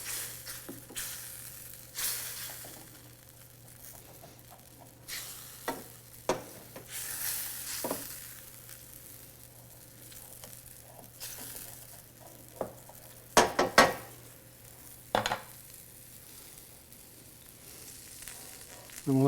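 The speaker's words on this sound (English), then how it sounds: "So just scrape the bottom of that pan a bit." Someone scrapes the bottom of a pan while white wine deglazes it after a pork shoulder blade roast. A steady sizzle runs underneath, broken by scattered clinks and scrapes of a utensil against the pan.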